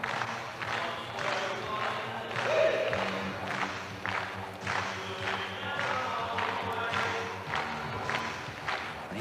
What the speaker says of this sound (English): Crowd clapping along again. They love this event.